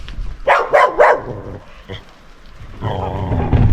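Several loud barks in quick succession from a dog nearby, followed by quieter growling and more distant barking.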